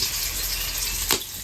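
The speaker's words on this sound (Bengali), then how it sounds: "তো এখন শাকটা ভেজে নেব।" Washed dhenki shak greens with potato and pumpkin peel fry in a pan, giving a dense, even sizzle with one brief sharper splash of hiss near the end.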